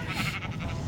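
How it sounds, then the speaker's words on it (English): A sheep in the Minecraft video game bleats, its short wavering cries repeating steadily and close, filling the clip on their own with no talk. "Oh, sheep. Oh, I'm gonna put the sheep."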